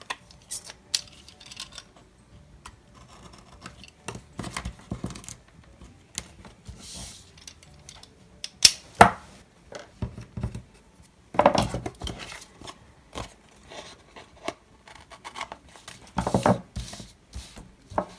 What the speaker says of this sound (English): I'm going to cut these off the same way I did the other side